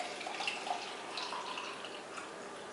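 Water runs into a small 12-ounce plastic shaker bottle for a protein shake, a soft, quiet trickling and splashing that continues evenly for a few seconds.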